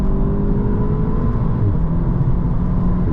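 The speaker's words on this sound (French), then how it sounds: "Alors le son du moteur, il est là, il est présent" Audi S3 8V sedan, Phase 1, running with a steady, loud engine drone and faint rising whine, continuous and close with no talk over it.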